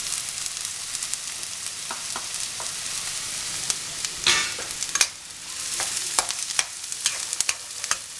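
Chopped onion frying and stirred in a pan for vegetable kothu parotta, a steady close sizzle with scattered scraping and clicking of the utensil.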